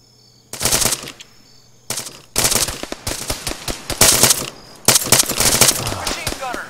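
Machine gun fire in ARMA 3 at an airstrip, several loud rapid bursts of automatic fire separated by brief gaps, close and sharp, with voices faintly underneath.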